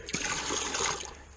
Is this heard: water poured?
yes